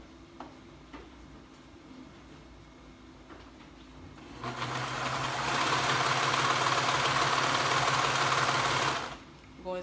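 A sewing machine stitching the seams of a top runs in one steady, fairly loud whirring burst of about five seconds after quiet room tone, then stops abruptly.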